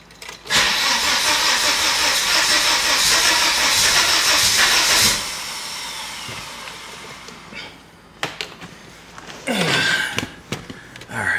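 A Volvo 850 with a no-start fault cranks hard for about four seconds with a loud, hissing churn. It then drops to a quieter rumble, followed by a few scattered knocks and clunks.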